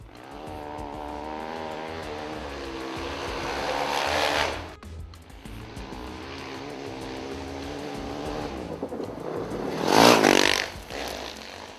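Honda CRF450X carbureted dirt bike with a Pro Circuit exhaust pipe, engine note rising and falling as it rides, with a sharp loud rev near the end, close to the microphone.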